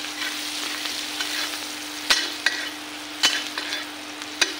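Onions with turmeric and salt frying in a pan, giving a steady soft sizzle with a few sharp clinks of a spoon against the pan, with no talking.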